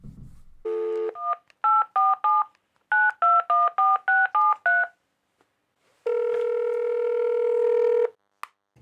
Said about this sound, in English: Let's call Puffin.